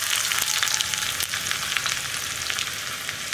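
Mustard seeds splutter and sliced onion fries in hot oil in a pan for a Kerala meal: a continuous close, loud sizzle with scattered sharp crackles and pops, and no voices.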